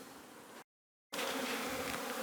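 Honeybees buzz around hives in Newfoundland, a dense, steady hum of many insects close by, cut by a half-second gap of silence before the swarm sound returns, a little louder.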